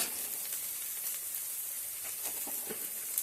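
Boneless meat frying in oil with salt and turmeric, a steady close sizzle and hiss with faint crackles throughout, no talking.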